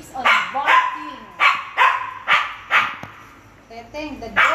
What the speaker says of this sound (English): the dog keeps on barking.